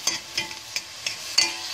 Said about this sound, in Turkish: Daha sonra bezelyelerimizi, patateslerimizi, küp küp doğranmış patateslerimizi içine koyuyoruz.